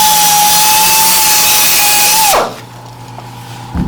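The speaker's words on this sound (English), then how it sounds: "What I got is a rubber block to clean my sandpaper." On a woodturning lathe, a loud steady motor whine with a high tone runs while sandpaper is cleaned with a rubber block, then winds down abruptly, leaving a quiet hum.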